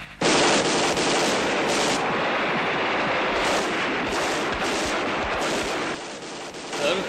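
Heavy gunfire rips out in a dense, continuous burst for several seconds after an order to fire in an Urdu drama, loud and close with overlapping shots and no pause.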